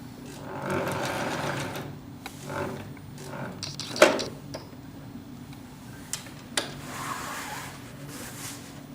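Sewing machine stitching fabric with thread, running in a steady mechanical whir broken by several short stops and starts, fairly close and loud, with no talk.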